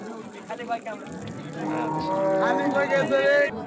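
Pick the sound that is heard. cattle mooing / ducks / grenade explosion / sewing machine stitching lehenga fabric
cattle mooing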